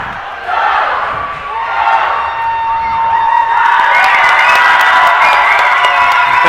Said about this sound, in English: Everybody cheering.